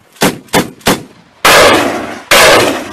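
Army gunfire during a military offensive in a village in eastern Congo: three sharp, loud shots in quick succession, then two long, roaring bursts of heavy automatic fire, with no voices.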